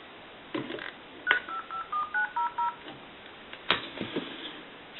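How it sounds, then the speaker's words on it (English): A short burst of touch-tone dialing from a tone dialer on a converted Monarch wooden wall telephone: about eight quick, evenly spaced DTMF beeps, clear and close, with faint handling noise before and after. "We'll use our tone dialer."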